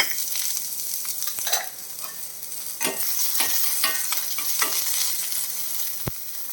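Chopped small onions and dried red chillies sizzle in a hot pan, a constant close crackling hiss broken by occasional scraping stirs and a sharp tap, with no one speaking.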